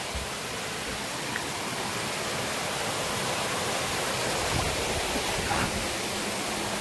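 Constant roaring wash of the perennial Dhodhavane waterfall in Konkan, falling from a height with small cascades above, loud and close, steady throughout with a couple of faint knocks.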